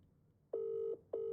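Outgoing phone ringback during a live show call: two steady electronic ring tones, each about half a second long, with a short gap between them, clear and alone against a quiet background.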